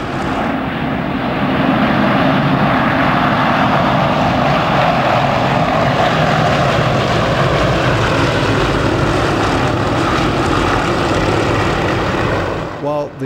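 Nine radial-engine trainers, six Russian Yak 52s and three Chinese Nanchangs, pass overhead in formation, their loud, throaty propeller drone sustained and close for the whole stretch before cutting off sharply at the end.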